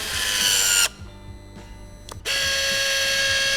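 A Dnipro-M DSG-200 electric sealant gun whines loudly at high speed and then cuts out when its overload protection trips on thick material. The motor restarts with short bursts before running steadily again, close and with no talk over it.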